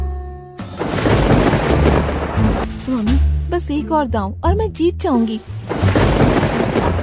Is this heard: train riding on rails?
no